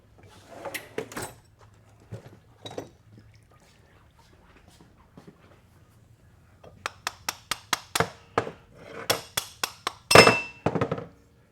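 Sharp metallic hammer blows on parts from a 4L60E automatic transmission with 300,000 miles, a few early strikes then a rapid run of about a dozen loud, ringing hits in quick succession, close by.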